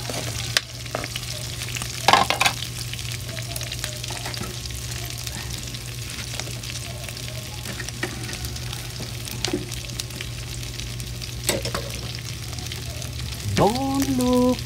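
Ingredients being stirred and sautéed in a pan for a kangkong and meat dish, a steady sizzle broken by repeated scraping clinks of a utensil, with a few brief fainter sounds in the background.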